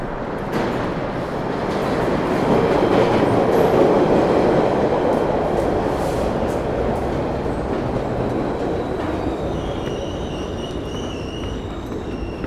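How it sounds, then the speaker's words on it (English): An inbound train heading into downtown Boston rumbles past steadily in Charlestown, a broad roaring swell that builds and then slowly fades, with faint high metallic squeals near the end. No one speaks. "That train is inbound going into downtown Boston."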